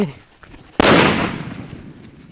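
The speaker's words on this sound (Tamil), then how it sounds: "அதே நாட்டு வெடியில் உள்ள கோல்டு பேப்பர் எப்படி இருக்குது அப்படிங்கிற பார்த்துருவோம்" One Nattu Vedi gold paper firecracker goes off with a single sharp, loud bang, and its crackling echo fades over the next second or so.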